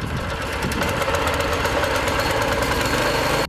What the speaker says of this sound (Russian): Она позволяет завести мотор на раз,